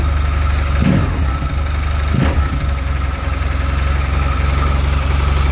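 Vehicle engine idling steadily and close, a loud continuous low rumble with two brief rises in revs early on, no talk over it.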